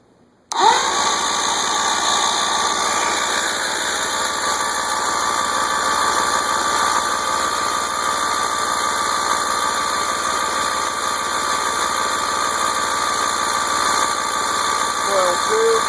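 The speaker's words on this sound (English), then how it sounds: "I'm going to go ahead and turn the starter back on for a second." A Mercury 90 outboard motor that has no spark cranks on its starter, a loud, continuous whirring drone beginning abruptly and running steadily without catching.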